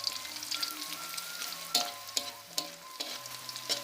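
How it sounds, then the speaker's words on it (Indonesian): Black petai beans fry in hot oil with a steady close sizzle and bubbling, broken by sharp pops and spatters. "Digoreng, diangkat dan ditiriskan."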